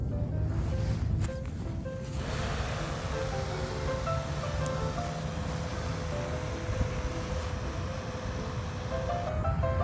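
An Arduino-controlled RC boat with a larger fan for propulsion runs steadily, giving a continuous whirring drone with faint water noise. The sound stays level throughout, with no talking.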